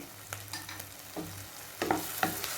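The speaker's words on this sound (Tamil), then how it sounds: "நல்லா வதக்கிக்குவோம்." Masala with chilli powder and garam masala sautéing for Tamil-style egg kothu idiyappam, a soft sizzle broken by a few clear scrapes and stirring knocks, close and moderately quiet, with no voices.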